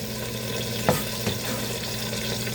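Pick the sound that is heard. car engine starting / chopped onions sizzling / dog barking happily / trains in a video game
chopped onions sizzling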